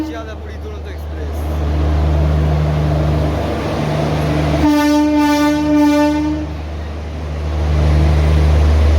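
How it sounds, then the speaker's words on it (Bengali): The Sealdah–Puri Duronto Express pulls into the station with a loud continuous rumble, then a long harmonic horn blast rising over the noise for about two seconds before the heavy rolling drone carries on. "এখন ঢুকে গেছে দুরন্ত এক্সপ্রেস, দেখে নিন।"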